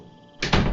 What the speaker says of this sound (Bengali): নিচে এসে কাঠের ভারী দরজাটা খুলে দিল